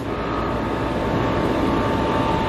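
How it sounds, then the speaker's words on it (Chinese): A portable air conditioner's compressor motor runs in cooling mode indoors, giving a steady droning hum with an even, unbroken texture. "有没有有冷气的那个马达运作的声音"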